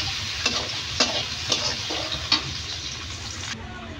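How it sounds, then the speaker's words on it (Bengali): Chopped onion fries in oil with a steady hiss, while a spatula scrapes the pan in regular strokes about every half second, close and moderately quiet. "পেঁয়াজটা তেলের সাথে অল্প একটু ভেজে নেব।"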